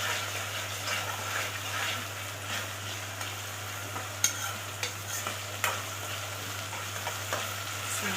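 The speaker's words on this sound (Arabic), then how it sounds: "اديله تشويحه كده مع البصل لما ايه البصله التوميه تصفر معايا" Onion and garlic sautéing in a pan give a quiet, steady sizzle over a low hum, with occasional sharp clicks of a spatula against the pan.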